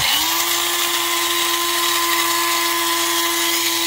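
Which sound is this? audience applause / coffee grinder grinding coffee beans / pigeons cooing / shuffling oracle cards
coffee grinder grinding coffee beans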